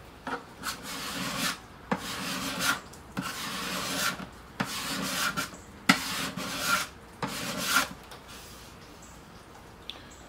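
A steel scraper works along the wooden body of an electric guitar beside its bindings, about eight separate rasping strokes in an uneven rhythm, close and clear with quiet pauses between them.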